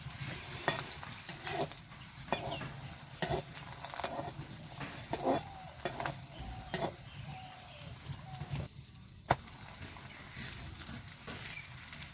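A red amaranth leaf paratha sizzles steadily in a little oil in a pan, with a continuous close frying hiss broken by scattered scraping and turning clicks from a spatula.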